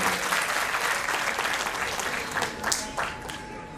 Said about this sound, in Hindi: सो एक बार जोरदार तालियां हो जाए मैम के लिए।